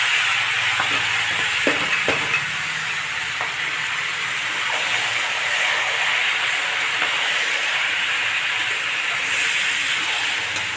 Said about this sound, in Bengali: ভাজা হয়ে গেছে, কচু শাকটা দিয়ে দিচ্ছি।